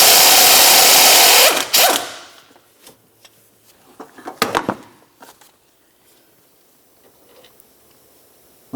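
A 13mm socket on a long extension works the pinch bolt of the intermediate steering shaft on a 1994-2002 Dodge Ram 2500. A loud, harsh burst of tool noise is followed by scattered sharp metallic clicks and taps in quiet.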